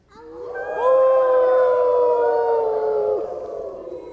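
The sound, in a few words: children imitating a wolf howl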